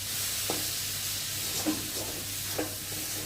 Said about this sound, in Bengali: দিয়ে ভালো করে ভেজে নেব। যতক্ষণ অবধি মানে ভাজা ভাজা মতো হবে ততক্ষণ আমি নাড়তেই থাকবো।